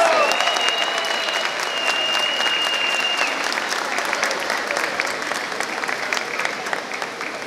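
Spectators at the second departmental southern bambuco pair-dance contest in Nariño applaud the winning troupe from Ipiales: sustained crowd clapping, loud and even, that tapers slightly over about seven seconds while a thin whistle-like tone sounds briefly near the start.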